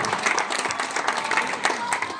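An audience applauds at a school's 16th anniversary celebration, with steady, moderately loud clapping from a crowd filling the short clip.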